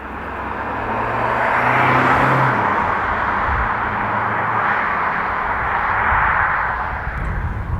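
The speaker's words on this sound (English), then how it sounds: "I think it is about time we should go for a drive" A 2022 Honda HR-V hybrid driving along, heard as a smooth, even road and tyre rumble with soft wind noise that swells and eases slightly, heard from inside the cabin.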